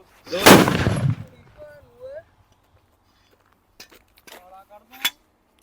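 A single loud, sharp bang from a potash gun loaded with sulfur and potash at Diwali opens the clip, followed by quiet gaps and brief voices talking.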